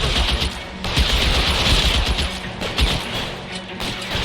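Heavy gunfire in the LA Noire video game, a dense stretch of rapid shots and booms that runs almost continuously, loud and close, with no voices heard.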